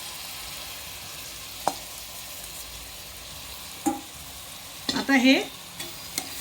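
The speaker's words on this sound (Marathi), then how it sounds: "डाळ तांदूळ भाज्या छान मिक्स करून घेऊया" Dal, rice and vegetables for masala bhat are stirred in a pot over a soft steady sizzle, with a few separate scrapes and clinks of the spoon near the end and a brief voice.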